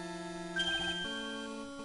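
A cell phone plays a ringtone version of a theme from the Phoenix Wright: Ace Attorney Trials and Tribulations video game, a short, faint, steady electronic melody of held tones with a brief shift midway.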